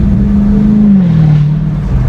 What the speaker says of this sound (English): he is running a mid-muffler delete, so it does sound very nice